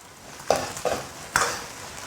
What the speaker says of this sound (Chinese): 大火快速爆炒一下，下入姜、葱、蒜和干花椒